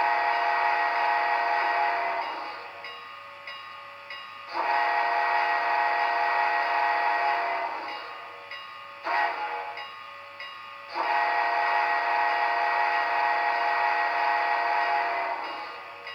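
An Athearn Northern #844 model steam locomotive with a Tsunami sound decoder plays a grade crossing whistle sequence: long, loud whistle blasts with a short blast between, alone with no talk.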